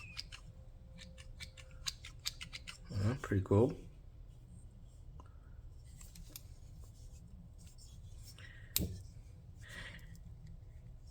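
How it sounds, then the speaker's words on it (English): Full-size spring-loaded scissors handled during an unboxing, giving a quick burst of sharp snipping and clicking near the middle, with a later single click, while a person talks quietly. "you got the scissors, full size, spring-loaded scissors"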